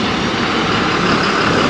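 A heavy vehicle's engine drones loud and close as it reverses on the Zojila mountain pass in Ladakh. The roar is dense and steady throughout, with no pauses.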